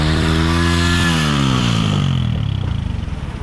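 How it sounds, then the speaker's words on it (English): A motorcycle engine with its throttle stuck open revs high and steady, then the pitch sags and the idle turns rough and sputtering, loud and close. "He just turned the bike on and it just started revving out of control."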